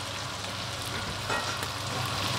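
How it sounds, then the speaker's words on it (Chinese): A pork chop with onion frying in a pan, a steady close hiss of sizzling fat that runs unbroken throughout at moderate level. "由佢煎一陣先"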